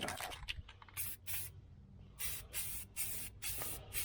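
Spray paint from an aerosol can, Walmart paint, hissing under the hood of a 1976 El Camino in several short close bursts separated by quiet gaps, with no voices.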